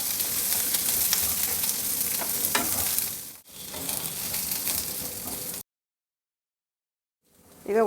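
Black pepper and cumin roasting in a pan, a steady dry crackle and scrape of stirring for about five seconds, then a sudden cut to silence before the frying noise swells back in at the end.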